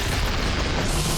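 A single loud, sustained explosion in the video game Horizon Forbidden West, a booming rumble that fills the whole moment with no talk over it.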